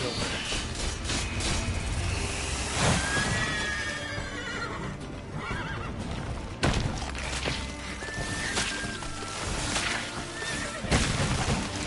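Roach the horse from The Witcher 3 gives a clear, high neigh in the middle of game combat and hoof clatter, with a couple of shorter whinnies later over music and impacts.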